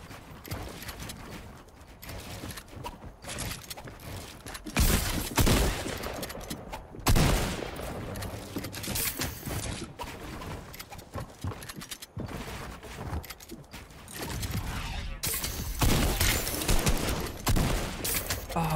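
Video game gunfire in a solo arena match, with repeated loud shot bursts and dense clattering firing throughout, several heavy volleys standing out between busier stretches of in-game noise.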